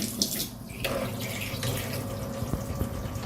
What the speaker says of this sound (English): So we're going to open the hot water.